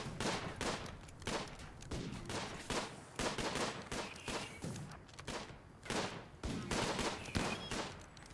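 Gunfire in the Rimworld video game as colonists fire on turrets, with fast repeated bursts of shots in quick volleys separated by brief pauses, sharp and fairly loud throughout.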